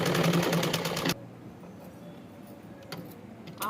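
Sewing machine stitching a small child's silk skirt, a loud steady mechanical whir for about a second, then stopping, leaving quiet room sound with faint clicks and a brief whirring restart at the end.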